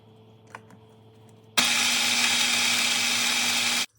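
A small food processor whirs steadily for about two seconds, blending a protein powder mixture, starting abruptly after a quiet moment and cutting off sharply.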